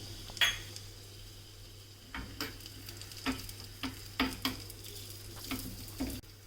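Cashews, curry leaves and cumin seeds fry in ghee with a faint, low sizzle, broken by a steady series of soft clicks and taps from a spoon stirring the pan.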